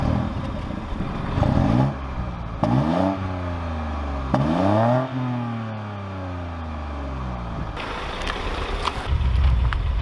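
A 2023 MINI Cooper with a 1.5-litre turbo three-cylinder is driven hard: loud repeated revs climb steeply, then drop sharply at each gear change, three or four pulls in a row with no talking.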